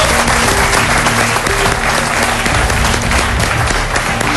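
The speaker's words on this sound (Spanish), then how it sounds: "recibamos con un aplauso grande" A television studio audience claps loudly and steadily for Gabriela, a thick continuous wave of applause with a faint tonal hum underneath.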